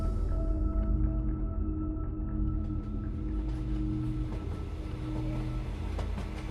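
Train ride sound effect from a Bengali horror audio drama: a steady rolling rumble of carriages on rails with rhythmic clatter and a low hum, continuous and moderately loud, with no speech.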